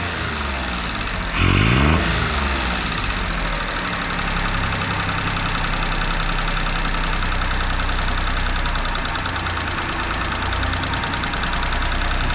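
A Japanese Hijet mini truck engine, fitted with a new carburetor and having distributor trouble, idles loud and close with a continuous rumbling drone, briefly interrupted near the start by a short burst of louder noise.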